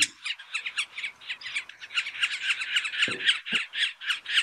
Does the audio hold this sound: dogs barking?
no